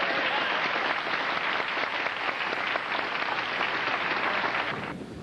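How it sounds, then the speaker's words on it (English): Sustained audience applause at a 1986 FAIR meeting, a dense steady wash of many hands clapping that holds for several seconds before beginning to fade near the end. "Let's have a round of applause for Michael Flynn."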